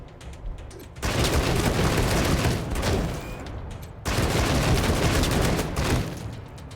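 Gunfire in the video game Wasteland 3: two dense bursts of rapid shots, each lasting about three seconds with a brief quiet gap between them, loud and close.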